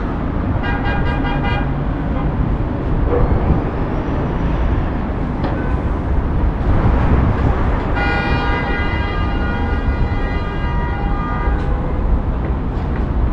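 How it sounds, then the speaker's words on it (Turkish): Dense city traffic on narrow streets in Pristina, Kosovo, under construction, with a steady roar of engines and repeated car horn toots, including a long sustained honk near the end. "Görüyorsunuz trafik acayip yoğun."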